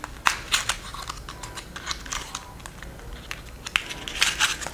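Someone opens the box of a Louis Vuitton Speedy Bandoulière 35 Damier Ebene bag, making close, crisp crinkling and crackling of paper and cardboard in irregular bursts, with no voices.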